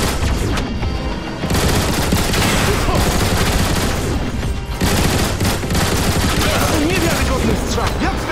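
Dense, loud bursts of weapon fire from the Transformers: War for Cybertron video game, sustained rapid shots and blasts filling the whole stretch with only a brief lull, voices faintly mixed in.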